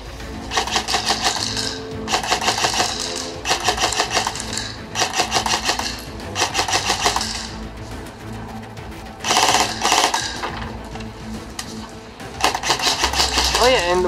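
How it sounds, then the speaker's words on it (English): ARES M110 airsoft sniper rifle firing in repeated bursts of sharp mechanical clacks, loud and close, with brief pauses between groups of shots and some talk mixed in. "Without further ado, let's go to shooting."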